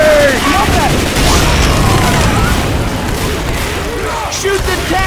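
Rapid gunfire and booming explosions in a Left 4 Dead 2 survival round on The Passing underground map, loud and relentless, with shouting voices mixed into the constant barrage.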